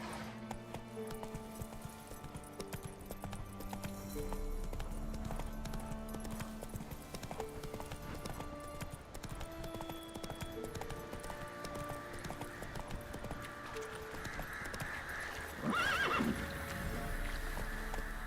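Roach, a horse in the video game The Witcher 3, gallops with a steady clip-clop of hooves and gives a neigh near the end, heard over a constant game background of music and ambience.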